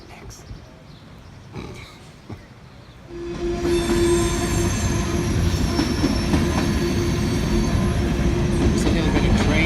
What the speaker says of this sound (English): Just a little bit of train horn for Roy.